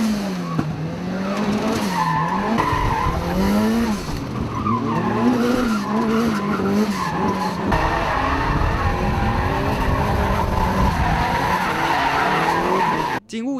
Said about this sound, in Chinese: 强大的制动力配合车手技巧，车辆横向漂移